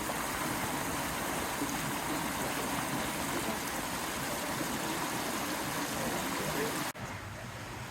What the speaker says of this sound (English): It sounds like there's rushing water. However, it's not rushing at all. There's just a little bit there.